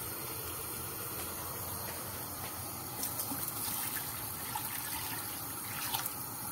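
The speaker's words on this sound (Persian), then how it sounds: "دو تا پارچ آب میریزم، در قابلمه رو میذارم" Water for a wheat bulgur soup is poured from a jug into a cooking pot, a steady, low hissing rush of liquid that runs for several seconds without pause.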